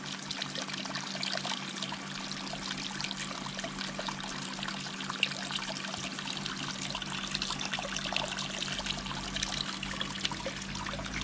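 Water flows steadily through an outdoor U siphon made from cut washing-machine hose on an aquaponics tank, a faint, continuous trickle and pour with no other sounds.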